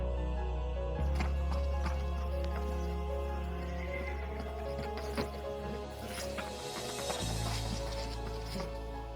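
Dominant stallions fighting over hierarchy neigh and whinny in shrill bursts over a constant low rumble, with scuffling and hoof noise mixed in throughout.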